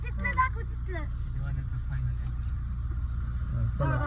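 Inside a moving car on a road trip in the Konkan region, a low, steady engine and road rumble runs the whole time beneath people chatting in the cabin.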